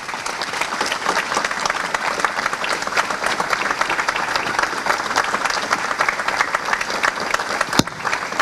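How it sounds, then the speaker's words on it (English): A standing audience at a Startup Grind event in Tirana claps warmly to welcome a speaker, a steady, dense patter of applause lasting several seconds at even loudness. "So I want everybody to stand up and give a warm applause."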